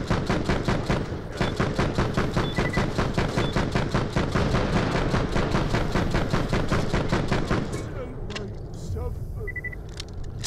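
Rapid, loud bursts of pistol gunfire in the video game Borderlands The Pre-Sequel, firing steadily for about eight seconds and then stopping, with quieter game sounds afterward.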